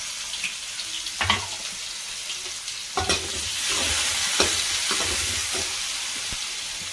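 Chopped onion, green chilli and tomato fry in a pan with a continuous hiss of sizzling oil, broken by several sharp scraping stirs, heard up close with no talking.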